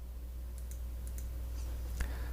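A computer mouse button is pressed several times while building code blocks for a Micro:Bit program. The clicks are soft and sparse, two quick pairs and then a single click, over a low steady hum with no talking.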